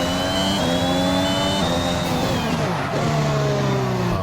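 An F1 2021 race car in the video game roars as it accelerates, its engine pitch climbing and dropping through gear shifts in a loud, continuous whine.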